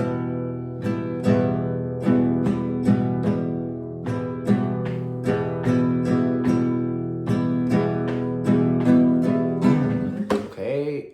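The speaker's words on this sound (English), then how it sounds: "Okay, and then it repeats. So repeating, it sounds like this." A guitar strums a chord pattern over and over at a steady tempo, bright and close, ending with a quick muted scrape.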